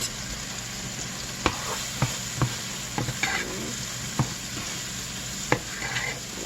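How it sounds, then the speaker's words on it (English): Onions seasoned with cayenne sizzle steadily in a pan while a spoon stirs, giving several distinct taps and scrapes over the constant frying hiss; no voices. "Nice little stir. Let it get real soft."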